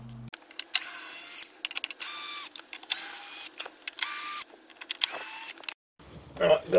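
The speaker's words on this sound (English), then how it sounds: "got the screws out" Cordless driver backing screws out of a Cerwin Vega V12-S subwoofer: five repeated short whirring bursts in an even rhythm, close and clear, with a brief rustle at the end.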